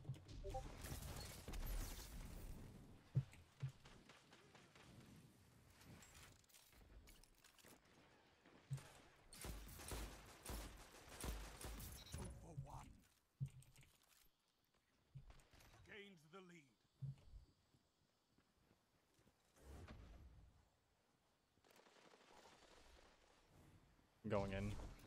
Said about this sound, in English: I love the sound of Rose just thump, thump, thump, thump.